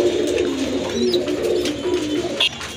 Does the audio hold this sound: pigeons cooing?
yes